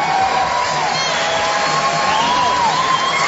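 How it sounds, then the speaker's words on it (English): A boxing arena crowd cheers and shouts in a loud, continuous roar, with whoops rising above the din, close and filling the space. "You hear the crowd appreciate the effort by Arceo."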